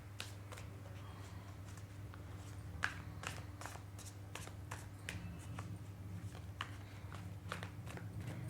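Tarot cards shuffled and handled during a reading, giving a series of quick, light papery flicks and snaps over a steady low hum, fairly faint and close.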